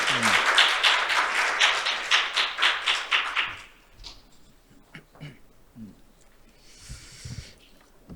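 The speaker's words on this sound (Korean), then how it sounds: "큰 박수 부탁드리겠습니다." Audience at a Korean accounting forum on IFRS 17 applauds warmly for several seconds, then the clapping fades out into quiet room noise and a few scattered sounds.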